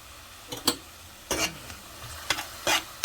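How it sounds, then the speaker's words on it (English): Salchichon sausage sautéing in a pan, with a handful of sharp scraping stir strokes spaced over a faint, steady sizzle, close and fairly quiet. "We're gonna allow this to saute for just a little bit"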